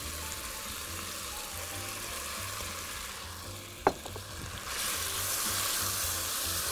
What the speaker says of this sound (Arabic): اهو الزيت سخن معايا، ابتدي انزل عليه لحمة اقدمها كده